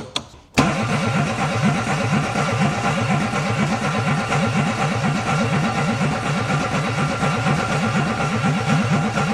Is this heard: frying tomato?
no